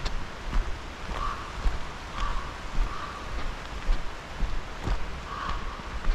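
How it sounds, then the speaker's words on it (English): Steady rain falls at a campsite, a dense continuous patter with occasional louder drops close by, no voices present. "It's raining."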